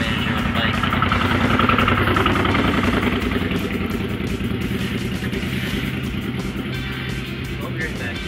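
Motorbike engine as a park manager rides by, a steady close-up chugging idle-like drone with rhythmic clatter, holding fairly constant over several seconds beneath a person talking.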